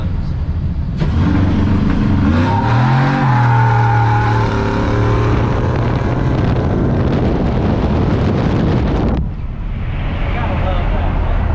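A car engine revs hard for onlookers, a loud, sustained roar that rises in pitch around the third second and holds before cutting off near nine seconds, with wind buffeting the microphone and a quieter tail after.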